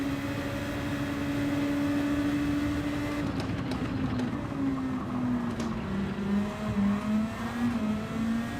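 Race car engine in Gran Turismo 7 drones steadily, its pitch holding then dipping and slowly sliding as the car runs in a slipstream, loud and continuous with faint clicks over it.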